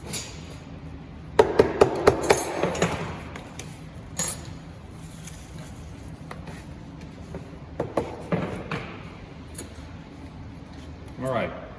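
A hammer strikes a metal mending plate on clamped window units during field mulling: a quick run of five sharp metallic taps, then scattered single knocks and clinks with handling noise.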